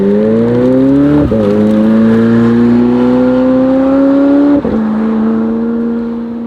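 A McLaren 765LT engine revs hard and climbs through the gears, with two sharp shift breaks where the tone drops and jumps back up, loud and close from inside the car, no talking.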